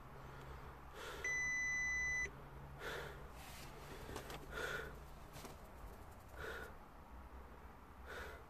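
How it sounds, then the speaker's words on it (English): Dashboard chime in an Audi A3 1.6 TDI as the ignition is switched on: a single steady electronic beep lasting about a second over low cabin hum, followed by faint rustling. "It's not going to work if I don't turn the ignition on."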